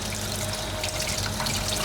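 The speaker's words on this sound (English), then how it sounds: "while you've got the water running" Water runs steadily from a kitchen tap during vegetable prep, a continuous close splashing hiss with no talk over it.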